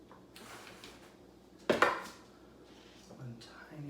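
A spoon scrapes and taps as a corn casserole mixture is spread into an even layer in a casserole dish, with soft close scraping and one sharper clink of utensil against the dish.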